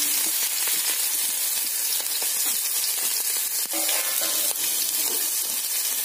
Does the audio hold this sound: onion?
yes